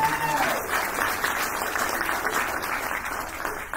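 An audience applauds for Daniel Tramper at a Warriors of AniKituhwa dance gathering, a dense, steady patter of many hands clapping for several seconds, loud and fairly close, with a faint voice underneath.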